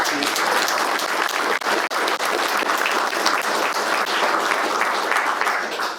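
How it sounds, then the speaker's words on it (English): An audience applauds panelists at a founders roundtable, dense sustained clapping from a sizable crowd, loud and continuous for about six seconds before trailing off. "let's give our panelists a round of applause"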